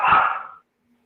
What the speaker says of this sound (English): And there go the dogs.